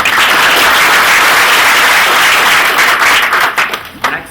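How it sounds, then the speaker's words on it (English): An audience at a startup pitch event gives a loud, dense round of applause that holds steady and then thins into scattered claps at the end. "Round of applause for Blake"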